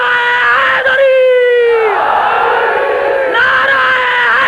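A crowd shouts the Naara-e-Haidari slogan response in unison at a religious majlis gathering, a loud, sustained massed cry that swells, drops briefly, then rises again.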